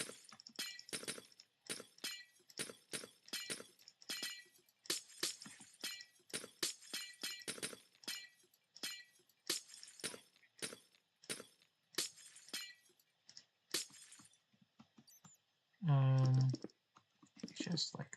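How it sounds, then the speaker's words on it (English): Glass blocks shatter in the video game Minecraft, dozens of short crisp breaking cracks in a rapid irregular series, with a brief louder rumbling burst near the end; no talking. "once I finish shattering this glass"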